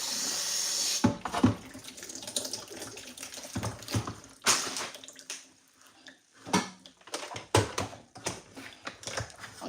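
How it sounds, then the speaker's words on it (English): Water is poured into a blender holding jollof rice ingredients, a splashing, trickling stream followed by clinks and handling noises in a kitchen. "I put a bit of water to blend it just a little bit"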